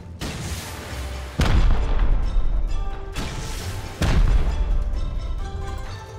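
Rocket explosions blasting apart player bases in the survival game Rust: several heavy, loud booms with sharp onsets land near one another, each followed by a long rumbling decay, and no one speaks.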